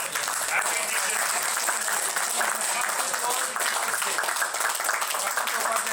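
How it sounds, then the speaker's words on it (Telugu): An audience at a college reunion applauding, a dense and steady burst of many hands clapping throughout, loud and close, with voices mixed into the crowd. "క్లాప్స్"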